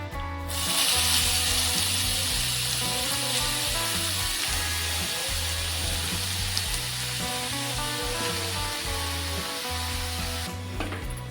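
Grated carrot frying in hot ghee over medium heat for gajar halwa, a steady close sizzle with faint stirring scrapes running continuously and evenly throughout, with no talk.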